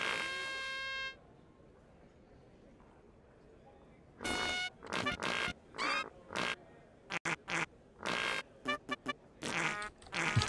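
Cartoonish fart sounds from the South Park The Fractured But Whole video game come as a quick series of loud, buzzy bursts with short gaps, following a brief tone and a quiet stretch.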